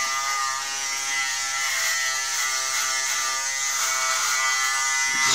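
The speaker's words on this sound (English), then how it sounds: "It's a good time to shave" An electric shaver runs steadily and close, a loud continuous buzzing drone that holds without pause throughout, with no talking over it.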